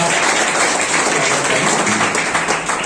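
Dense, steady applause from an audience at a Teacher's Day function, continuous clapping filling the whole stretch at a fairly loud level.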